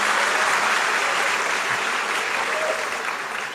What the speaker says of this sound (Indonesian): Beri tepuk tangan buat Pak Rektor kita.